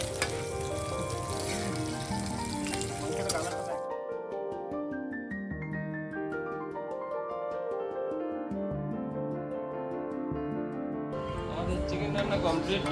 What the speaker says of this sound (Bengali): তোমরা দেখছো আব্দুল্লাহ এখানে চিকেন 65 রান্না করছে, আর এখানে মাংস কষাচ্ছে আমাদের বাবুসোনা